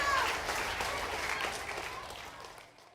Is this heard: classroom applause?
yes